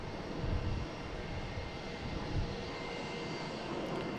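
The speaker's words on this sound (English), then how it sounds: "next we have a JetBlue coming in. From Reagan, an A220." A JetBlue Airbus A220 arriving from Reagan and coming in to land at Boston Logan produces a faint, low jet rumble with a couple of soft swells, distant and brief.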